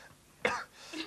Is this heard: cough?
yes